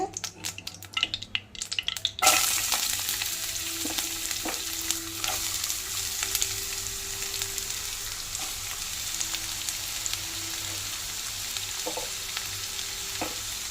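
Onions dropped into hot oil in a pan for an egg and drumstick curry, an initial clatter giving way to a loud, steady, close sizzle with occasional stirring scrapes.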